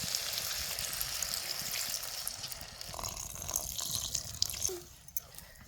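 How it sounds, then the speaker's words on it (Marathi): A small splash of water goes into a chilli curry cooking in a pan, giving a close, continuous pouring and bubbling rush that tapers off near the end with a couple of drips. "आता नकळत थोडस पाणी टाकायचं"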